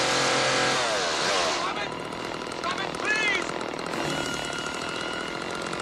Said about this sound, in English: how they shot this with a chainsaw right next to his neck